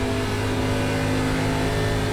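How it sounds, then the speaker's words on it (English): An ARCA Menards Series race car engine at Darlington Raceway in iRacing, a loud, steady droning hum with a sustained tone, heard close and without interruption. "Last lap, just going to try to limp the car around the track now."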